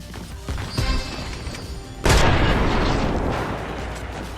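Fortnite boogie bomb explosion, a sudden loud burst midway through the clip after a stretch of game noise, with a crackling wash of debris that fades slowly.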